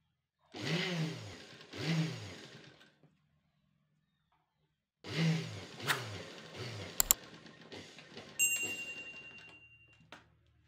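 A domestic sewing machine stitching lace onto the neckline of a blouse, its motor whirring in two separate bursts that rise and fall in speed, with a pause between them.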